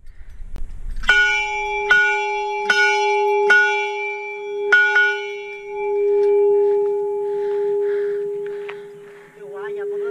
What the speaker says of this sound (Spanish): ¿puedo decir que soy el primero en tocar la campana?